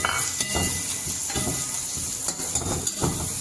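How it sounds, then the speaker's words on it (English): Diced onions sauteing in a pan for Shahi Patiala chicken, a continuous close hiss with clinks and scrapes of a utensil stirring against the metal, steady and moderately loud, with no talking. "Now we'll be roasting our diced onions, which we had showed previously."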